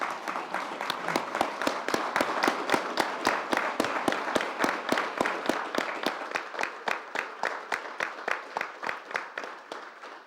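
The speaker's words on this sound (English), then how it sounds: "We should applaud the Jedi, right?" Steady applause from an audience, many hands clapping in a dense, even rhythm that carries on throughout and fades slightly toward the end.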